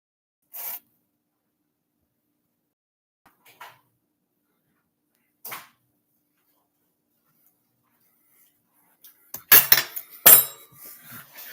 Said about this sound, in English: I put it in the frying pan.